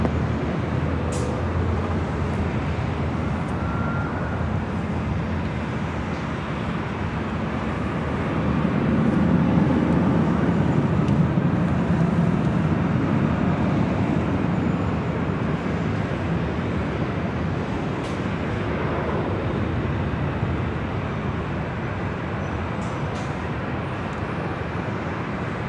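Airliner departing from runway 24 left at LAX, a broad steady roar with low rumble that swells around the middle and slowly fades, heard from a distance over continuous outdoor background noise.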